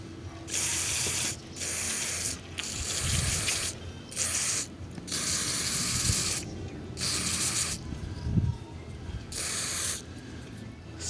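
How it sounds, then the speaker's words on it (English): Cleaner spray hisses onto the MAP sensor of an Opel Astra K in about eight close, loud bursts, each lasting roughly a second with short pauses between them. "I will just try first to spray it out with this cleaner spray"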